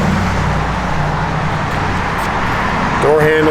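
A 1955 Chevrolet Bel Air's V8 engine rumbles loudly and steadily up close, a deep low growl that holds throughout, with a brief voice breaking in near the end.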